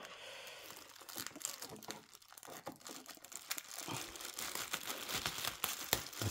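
Cardboard and plastic packaging of a Celestron StarSense Explorer LT 114AZ telescope being opened with scissors, giving continuous close crinkling, tearing and crunching with irregular sharp rustles throughout.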